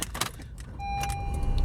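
Original Honda car keys and key fobs on a Honda keychain jangle in short metallic clinks, close and brief, with a faint steady tone underneath.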